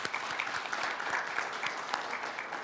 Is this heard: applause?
yes